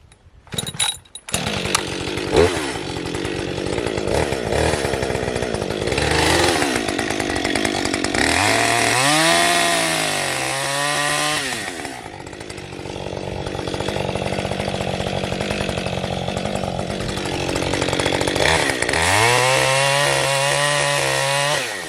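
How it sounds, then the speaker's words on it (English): A chainsaw revs loudly and bites into wood, its engine pitch rising and dipping as it cuts, with a few pauses and surges throughout. "Chainsaw surgery."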